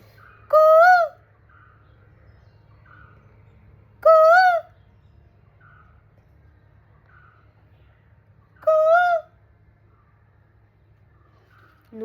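A person whistles a rising imitation of an Asian koel call three times, spaced several seconds apart, each short and clear over a faint low hum.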